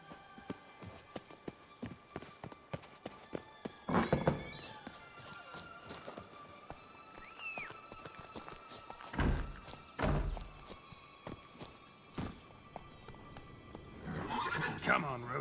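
Geralt's horse Roach in The Witcher 3 video game clops along in steady hoofbeats, with a couple of louder thuds and a neigh, while game sounds and a voice come through.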